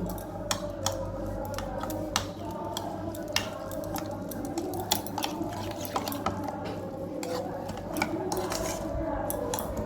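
Ground black pepper and a little salt being mixed in with a spoon, giving a steady scraping and clinking of metal against a bowl with sharp taps every second or so, close and fairly quiet.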